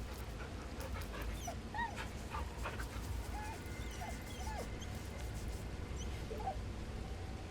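A dog in a fantasy role-playing video game gives soft whimpers and high yips while being petted, scattered through the clip over a steady low background drone, with no talking.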